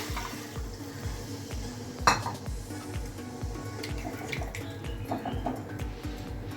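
Water is poured into a pan of eggplant that has been frying with spices. A steady wash of sizzle and clatter runs throughout, and one sharp utensil knock stands out partway through.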